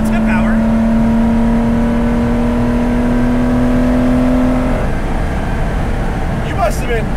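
A 1973 Porsche 914/6 engine pulls uphill, its rising tonal drone steady and close for several seconds before easing off, with wind and road noise underneath.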